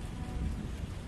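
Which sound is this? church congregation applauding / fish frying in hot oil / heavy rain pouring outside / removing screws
heavy rain pouring outside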